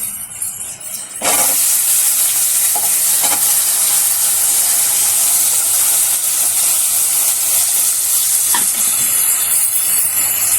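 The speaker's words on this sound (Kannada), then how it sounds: "ಈಗ ತರಕಾರಿ ಹಾಕ್ತಾಯಿದ್ದೀನಿ" Vegetables frying and sizzling in hot oil for avarekalu uppittu, a steady loud hiss that starts abruptly and runs throughout, with occasional stirring clinks over it.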